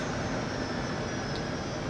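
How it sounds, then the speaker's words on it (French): A Mobilize Duo Néo 45 electric car coasting under engine braking on a night drive, giving a steady, even broadband whoosh of road and wind noise with no distinct engine note and no talk. "Là, je freine au frein moteur."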